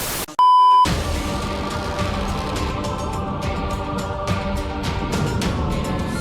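A single loud electronic beep tone sounds briefly near the start, followed by a steady background hum.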